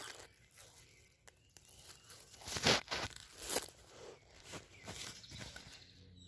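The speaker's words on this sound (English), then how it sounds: "But I am gonna weed the weeds, like these." Veronica weeds pulled up by hand from garden soil, giving a few close, crisp tearing and crunching bursts of roots ripping free amid soft rustling, with quiet gaps between pulls.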